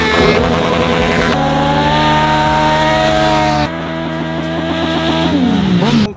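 Stunt motorcycles at a MotoGP stunt show sound check, a Triumph Moto2, a KTM 790 Duke and a Kawasaki 636, rev hard and loud at close range, their engine notes rising and falling and overlapping without pause.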